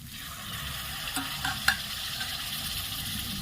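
Rajma cooking in a pan with a little water just added, giving a steady soft sizzle and a few light stirring scrapes, close and continuous, with no one speaking.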